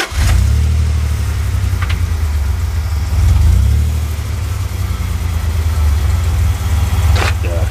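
A 1998 Dodge Dakota Sport pickup engine runs at a steady, close idle, with a strong low rumble that swells briefly around the middle, and a few faint sounds come from around it.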